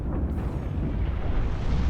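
An explosion in the video game Subnautica in a lava biome, a loud, sustained deep roaring rumble with no talking.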